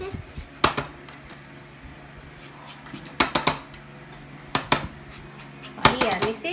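Chocolate granita mixture is stirred in a bowl, sending out sharp clinks and scrapes in uneven bursts, close and fairly loud, while people talk throughout.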